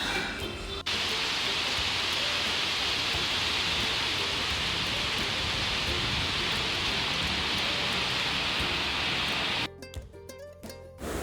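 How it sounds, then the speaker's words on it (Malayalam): Heavy evening rain in Bangalore, a dense, even hiss of downpour pouring without pause before cutting off abruptly near the end. "വൈകുന്നേരം ആയപ്പോൾ തന്നെ നല്ല മഴ പെയ്യാൻ തുടങ്ങിയിരുന്നു."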